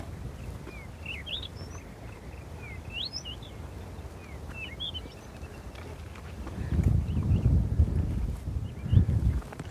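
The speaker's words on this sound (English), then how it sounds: "Love the birds, eh?" Birds chirp in short, scattered bursts at Rondevlei Nature Reserve in Cape Town, faint and somewhat distant over low outdoor rumble and wind that grows louder toward the end.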